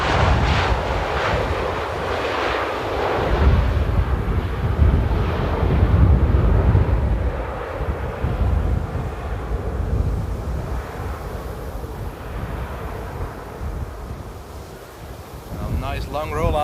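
Strong gusting wind buffeting an outdoor microphone at Amsterdam Airport, a broad roar rising and falling with the low rumble of landing aircraft underneath, and someone talking over it.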